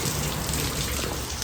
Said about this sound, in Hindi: यहाँ की बारिश जो है ना ये ख़तरनाक है।